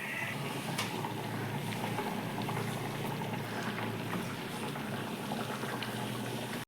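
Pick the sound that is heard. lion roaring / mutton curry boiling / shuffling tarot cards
mutton curry boiling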